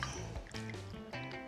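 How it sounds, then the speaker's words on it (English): Bourbon poured into a cocktail shaker for a Manhattan, a quiet short liquid trickle and glug with a few splashy pulses, close by and alone. "2 ounces of bourbon."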